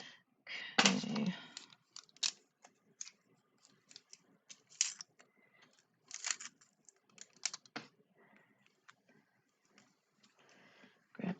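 Scissors snip paper during wedding scrapbooking, with scattered short crisp cuts and light rustling of paper and small supplies close by, with no talking.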